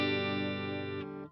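A Fender Vintera Telecaster electric guitar on a clean tone rings out as one sustained strummed chord that decays over about a second, then is cut off, with nothing else playing.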